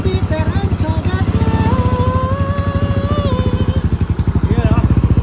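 A motorcycle engine with a 36mm throttle body revs close and loud over a rapid, pulsing idle, with the pitch rising and falling through several throttle blips.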